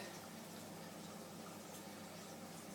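Steady broadband rumble and hiss of water heating to a boil in a kettle, continuous and even throughout, with no voices.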